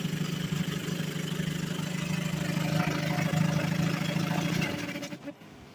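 A 1957 Brooklure 12 hp outboard motor, made by Gale Products of Outboard Marine Corporation, runs at a steady throbbing idle close by for several seconds, then cuts out abruptly.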